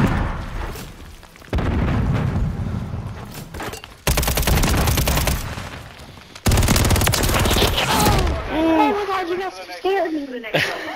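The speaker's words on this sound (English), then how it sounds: "Gunfight. Clear all hostiles on site." Bursts of rapid gunfire and a few booming blasts from a Call of Duty gunfight, loud and sustained across several salvos, with some chirpy high effects near the end.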